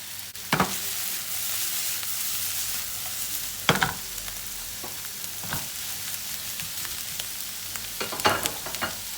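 Steady sizzling of green and red kapia peppers with salt frying in a pan, with a few sharp scrapes and clatters of a utensil stirring them.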